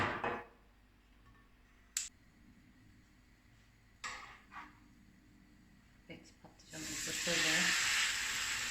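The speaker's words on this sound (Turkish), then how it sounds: "Tavama bir miktar zeytinyağı ekliyorum" Olive oil sizzles in a frying pan while an omelette with roasted eggplant is being prepared, a broad steady hiss rising near the end after scattered brief clicks and kitchen noises.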